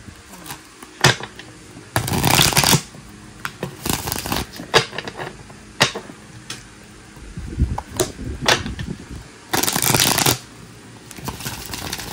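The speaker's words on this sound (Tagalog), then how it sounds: "Palasahin lang po na po natin ang ating baraha" Playing cards being shuffled, with several riffling bursts separated by sharp snaps and taps of the deck, close and crisp.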